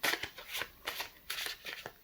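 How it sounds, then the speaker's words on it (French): Tarot cards riffle and slide in quick repeated shuffling bursts, close and crisp, with no voice over them. "je bats les cartes et je demande 13 cartes à vos guides"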